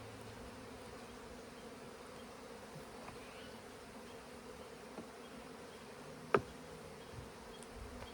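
Honeybees drone steadily during an artificial swarm hive split, a soft continuous buzz with a single brief knock near the end and no voices.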